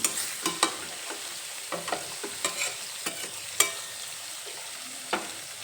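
Spices and salt stirred in a hot pan for a Bengali bele fish jhal, giving a soft background sizzle with scattered sharp scrapes and taps of the spatula, close but fairly quiet, with no talking.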